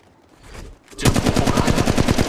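Automatic weapon fire in the game Apex Legends, a rapid burst of loud evenly spaced shots starting after a short quiet rustle and continuing steadily to the end.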